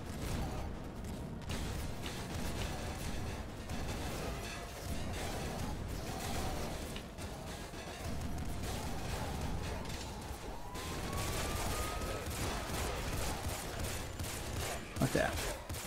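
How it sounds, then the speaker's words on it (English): A bugged gunfire sound loops continuously in the video game Nuclear Throne Ultra Mod, a dense, unbroken rattle of fire mixed with other game noises throughout, while someone talks over it. "I think I've accidentally bugged it. There's now a constant fire sound going on."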